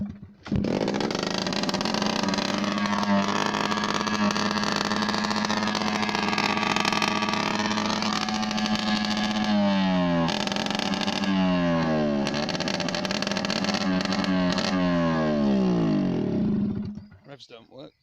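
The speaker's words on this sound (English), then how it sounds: "There was no exhaust on it, there isn't an exhaust on it, so I'll give you a headphone warning on that" A Hero Puch Turbo Sport moped engine runs with no exhaust fitted, a loud, raw, buzzing close-up rasp that holds steady, then revs up and down repeatedly before cutting out near the end, with a voice heard over it.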